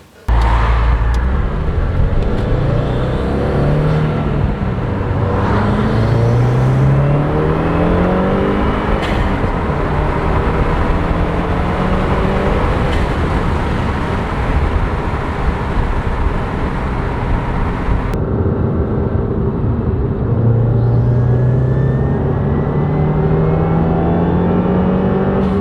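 A Subaru WRX running a flex fuel tune drives and accelerates hard, its engine rising through repeated revving pulls with gear changes in between. The engine sounds loud and close throughout.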